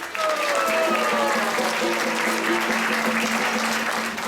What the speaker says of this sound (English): let's give Chitraleka a round of applause